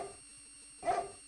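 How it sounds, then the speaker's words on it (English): A single short dog bark from the video game King's Quest VI, a brief clear yelp standing alone against a quiet background near the end. "That's a dog."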